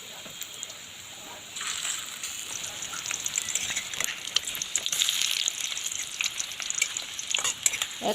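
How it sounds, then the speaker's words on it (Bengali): Fish roe fritters bound with boiled potato hit hot oil in a kadai one at a time, starting as a soft hiss and swelling into a busy, crackling sizzle after a second or so, with scattered pops and spatters close by. "কড়াইতে তেল গরম করে একটা একটা করে বড়া এইভাবে ছেড়ে দিতে হবে"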